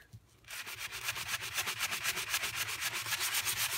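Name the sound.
hand sanding paper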